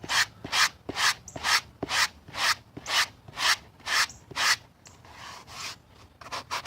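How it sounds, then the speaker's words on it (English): A coarse sanding block of roughly 60 grit is rubbed in steady back-and-forth strokes while shaping a Plasti Dip shield, about ten rasping passes close up and alone, with a rougher scrub at the end. "Nice coarse grit sanding block."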